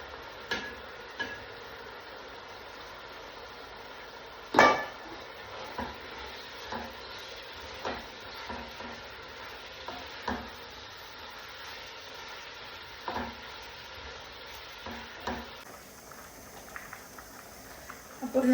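Cornflour-coated chicken fries in a pan with a soft, steady sizzle, broken by scattered stirring clatters and a sharp utensil knock, with quiet talk in places.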